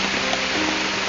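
Heavy rain pours in a dense, steady roar with no break, loud and close throughout the short stretch.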